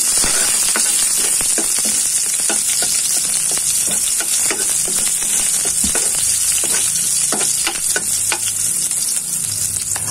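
Garlic, onion and ginger sauté in a hot pan, a dense continuous sizzle close up with frequent sharp clicks and scrapes of a utensil stirring, no voices.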